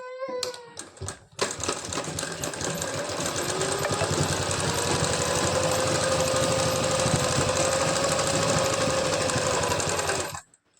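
A sewing machine runs a topstitch along a blouse. A few short clicks come first, then a loud, steady close-up whirring drone that lasts about nine seconds and stops abruptly.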